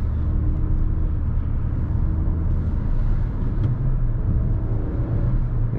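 Suzuki Vitara 1.4 Turbo Allgrip with six-speed manual gearbox in city driving, its engine droning steadily from inside the cabin as the driver downshifts with rev matching, a low continuous hum without sharp peaks.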